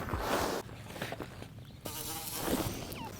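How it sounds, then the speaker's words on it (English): Flies buzz through the air at an outdoor park, with faint intermittent whirring passes against quiet ambient background noise. "I cringe at the sound of flies flying around in the air."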